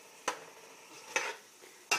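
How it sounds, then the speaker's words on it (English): Chicken karahi fries in a pan under a faint steady sizzle while a utensil scrapes and knocks against the pan three times at irregular intervals. "So we're just going to let this fry and cook here"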